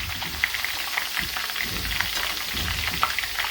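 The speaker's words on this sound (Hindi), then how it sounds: "इसको भी हम हल्के से फ्राई कर लेंगे" Crushed spices lightly frying in a pan for a malai chicken karela dish give off a steady, close crackling sizzle with scattered small pops, continuous throughout.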